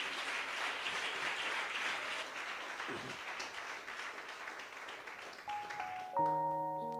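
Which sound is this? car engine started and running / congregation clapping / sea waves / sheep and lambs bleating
congregation clapping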